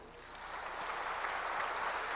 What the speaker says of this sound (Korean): 하나님께 박수 주시기 바랍니다